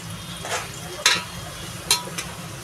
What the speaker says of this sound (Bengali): মানে গোল্ডেন ফ্রাই হওয়া পর্যন্ত আমরা এটাকে ফ্রাই করব